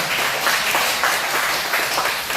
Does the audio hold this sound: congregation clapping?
yes